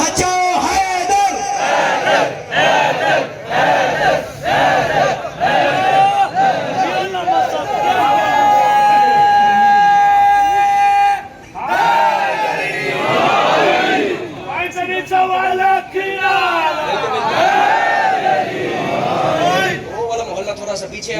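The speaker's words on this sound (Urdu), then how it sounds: "مل کے زحمت نہیں عبادت سمجھ کے دونوں ہاتھ بلند کرو، حیدری" A large crowd at a Muharram majlis chants Haideri together in loud, rising and falling waves, with shouted calls and chatter mixed in. The sustained chanting fills the space for about twenty seconds.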